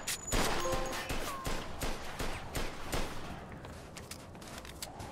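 Scattered gunshots in the Mafia II video game, sharp reports at irregular intervals over a low background, moderately faint, with one louder burst early on.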